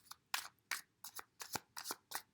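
Tarot cards are drawn one by one from a deck, a quiet series of short crisp slides and flicks in a loose rhythm, close and faint, with no talk.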